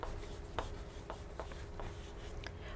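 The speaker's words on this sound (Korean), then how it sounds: "그럼 우리 다시 한번 이 문장 니콜과 함께 써볼게요." An English sentence being written by hand with a pen on paper, producing faint, continuous scratchy strokes with a few light taps. There is no talking.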